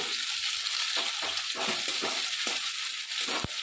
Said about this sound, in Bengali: এবার আমরা এতে টমেটো কুচোগুলো দিয়ে দেবো